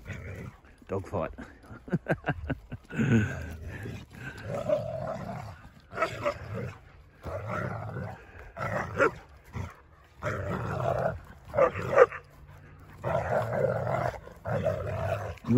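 Playful dogs on a cold autumn morning trade growls, snarls and occasional barks in uneven bursts, close by, while a person talks across much of the scuffle.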